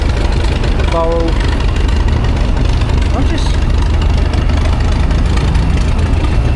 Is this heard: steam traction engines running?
yes